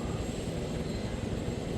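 Helicopters spooled up in the Arma 3 military game: a steady, dense rotor and engine roar holds at a constant level for the whole stretch, with no talk over it.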